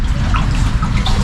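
Flood water flows and splashes steadily close by outside, a continuous rushing trickle with no voices.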